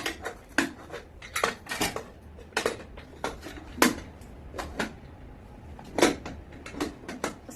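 Rice being served onto a plate at home with metal utensils, with a sequence of sharp clinks and scrapes of spoon against plate arriving in irregular bursts, close and clear, with no talking.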